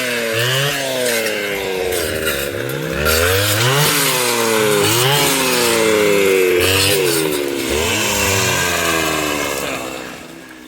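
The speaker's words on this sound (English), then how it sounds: "People on the saws are really doing the big work today." Chainsaws cutting through fallen wood while clearing a section of the Pacific Crest Trail near Mt Gleason, engines revving up and down repeatedly in a loud, close, rhythmic pattern for the whole stretch.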